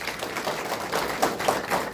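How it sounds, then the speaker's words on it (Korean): A short burst of applause greets supporters at a press conference for an Ansan mayoral candidate, with many hands clapping in uneven, moderately loud waves indoors. "우리 함께 응원하는 뜻에서 큰 박수로 환영합니다."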